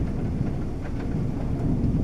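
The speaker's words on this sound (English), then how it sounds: "Whoops, raining outside." Steady rain falls outside in a continuous, moderately faint wash of noise with a low rumble beneath it.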